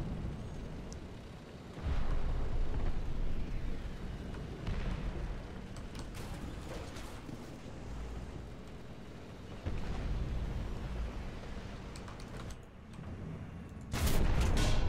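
A T-64B tank's cannon fires in War Thunder, with heavy booms at intervals over a constant rumbling engine and battlefield background.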